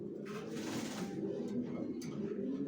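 Young racing pigeons in a loft coo together in a continuous soft, low warble, with a few brief rustles and flutters over the top.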